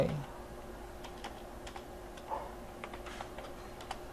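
Someone types on a computer keyboard while filling in a Canva design, with light, irregular clicks scattered over a low steady hum, faint and close.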